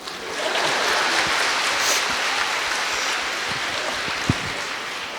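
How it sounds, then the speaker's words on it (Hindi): An audience claps steadily at an Indian event, in a dense, even wash of applause that carries on throughout. "तो मारो ताली, तब मार लो।"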